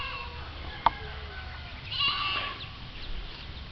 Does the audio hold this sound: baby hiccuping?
no